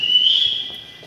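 Single bright sustained whistle from a person inside Jhansi Fort's baradari, a clear steady tone lasting about half a second with a slight rise, then fading, with faint room echo.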